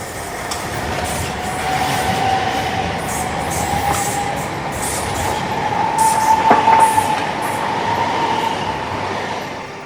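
A train rolls past beside a canal: a loud, steady rumble of wheels on rail that holds for several seconds, with faint squealing tones riding over it and no voices.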